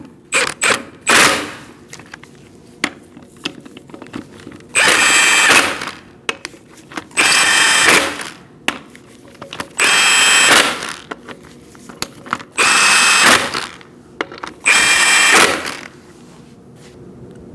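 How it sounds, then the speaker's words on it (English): Bursts of an impact wrench or power ratchet driving a 19mm socket onto the front wheel lug nuts of a 2004-2012 Chevrolet Colorado, about six whirring runs of one to two seconds each, close and loud, separated by short pauses. "You're going to tighten your lug nuts in a crisscross manner using a 19mm socket."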